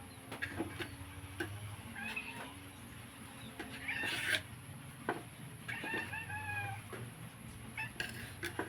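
A cat gives several short, faint meows at intervals over a quiet indoor background of small clatter and low hum, with no talking.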